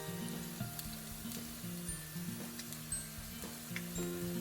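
Stuffed bitter gourds, bharwan karela, in a pan on a low flame give off a soft, steady sizzle, faint and even throughout, with a tonal hum beneath it.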